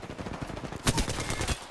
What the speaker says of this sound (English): Some guy shooting wingman shots at me.